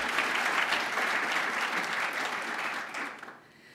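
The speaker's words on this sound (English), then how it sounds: "Please give them a round of applause." Audience applause at a White House Lunar New Year celebration, a dense steady wash of clapping from a crowd that tapers off near the end.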